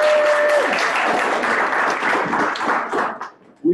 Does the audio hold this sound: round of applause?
yes